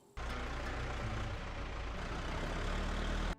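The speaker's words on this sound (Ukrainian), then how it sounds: "Знов ми викликали трактор, щоб він зарив попередню траншею." Tractor engine idling at a village house during sewage pit digging, a steady low rumbling drone that starts abruptly and holds evenly for about three seconds before cutting off.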